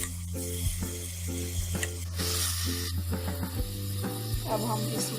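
Tomatoes and green chillies hiss and sizzle in a pan with eggplant and potato for an aloo baingan dish, a steady bright frying crackle with stirring scrapes and clinks throughout.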